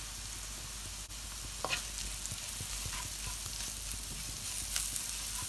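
Ground coriander and other spices frying in a pan for a South Indian chicken curry: a steady soft sizzle with a few faint stirring clicks and scrapes, no voices.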